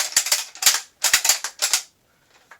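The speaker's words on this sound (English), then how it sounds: "Very, very smooth bolt. Just remove that quickly." A rifle bolt on a British self-loading rifle is worked and pulled out, giving a series of sharp, close metallic clacks in three quick clusters, then a couple of faint ticks.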